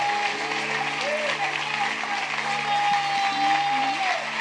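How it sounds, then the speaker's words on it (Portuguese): A church congregation claps continuously, steady applause under sustained organ or keyboard tones and a voice. "Aplaudam a Jesus"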